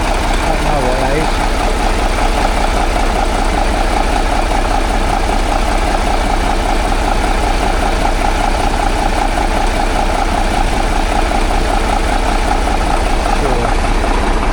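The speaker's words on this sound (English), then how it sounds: "Another Caterpillar diesel. It looks to be a blading and grading machine" A Caterpillar diesel blading and grading machine idles at an outdoor steam working weekend, giving a loud, steady, unbroken rumble that holds throughout.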